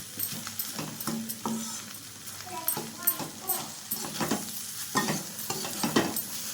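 An egg stir-fry sizzles in a pan on a gas stove at low flame, with repeated stirring scrapes and clicks over a continuous frying hiss. A voice is faintly present at times.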